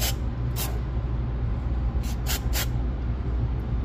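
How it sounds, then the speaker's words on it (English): Mass airflow sensor cleaner sprayed onto the mass airflow sensor of a Nissan 370Z, heard as four short, sharp hissing bursts over a steady low background hum. "Mass airflow sensor cleaner."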